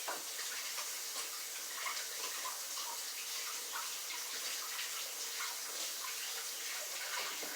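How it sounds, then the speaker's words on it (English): Tap water runs into a mixing bowl in a kitchen sink, a steady bright gushing splash that holds at an even, fairly close level the whole time, with no voices. "I'm going to put the bowl into the sink and fill it up. You're going to hear the water for a minute."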